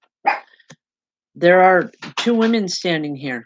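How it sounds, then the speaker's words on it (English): A dog barks in a short burst near the start, followed by someone talking steadily in close, clear speech that covers the rest. "sorry about the dogs."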